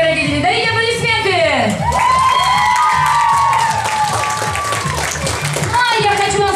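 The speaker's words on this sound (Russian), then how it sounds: "Дарите аплодисменты." An audience at a graduation ball applauds and cheers loudly as one continuous wash of sound, mixed with whoops and voices.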